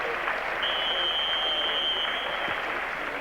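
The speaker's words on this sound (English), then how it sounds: "The crowd giving him the support he's asked for." Steady applause from a stadium crowd at an athletics meet in Stockholm, loud and continuous, filling the whole stretch with dense clapping and no talk over it.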